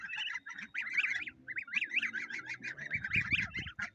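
Small ducklings being herded at dusk on a backyard farm, giving a continuous chorus of high peeping and quacking calls, fairly close, with scuffling and handling noises near the end.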